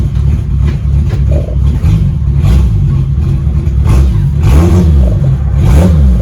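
A 1966 Triumph GT6 engine revs loudly and pulls away, the mid-pitched note rising and falling through several throttle surges, close and steady throughout with no talking.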